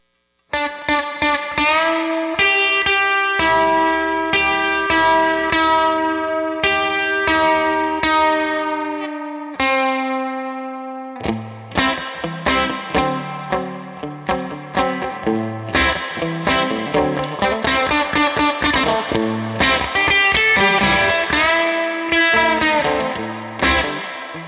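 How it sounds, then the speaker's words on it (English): An electric guitar plays a twangy country-style lick through an effects pedal rig, giving a snappy indie tone with some distortion and chorus. Loud, clear picked notes and chords run steadily, with a brief held pause midway and no talking. "You kind of get that really tonky kind of sound, but still maybe more like an indie kind of tone."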